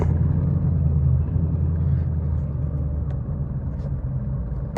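A truck with a Stage 3 RSA 10R80 transmission drives along, a steady low engine and road rumble from inside the cab, moderately loud and unbroken, no clear shift audible and no talking.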